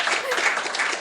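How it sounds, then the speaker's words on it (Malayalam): A short burst of steady applause from a studio group during an interview, clapping densely for about a second with faint voices underneath. "അതൊരു കയ്യടി കൊടുക്കണം കേട്ടോ അത്."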